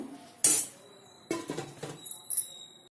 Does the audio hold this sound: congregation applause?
no